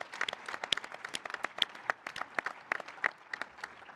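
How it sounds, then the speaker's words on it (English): Scattered applause from a conference audience honoring departing executive members, fairly faint and sparse with distinct individual claps rather than a dense roar. "So can we give them a round of applause"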